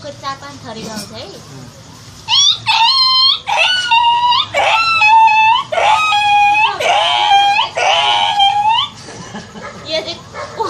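A girl vocally imitates dogs, producing a string of high, wavering whines and yelps in short bursts separated by brief pauses, loud and close, with some breathy sounds at the start.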